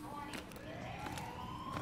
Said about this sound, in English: the sirens in the background where it is